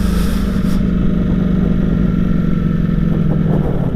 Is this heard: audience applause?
no